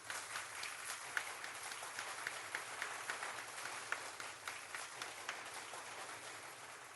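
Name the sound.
applause played by the radio host for himself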